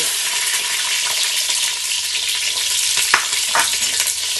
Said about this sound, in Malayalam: ഒന്ന് ഇളക്കി കൊടുക്കുക.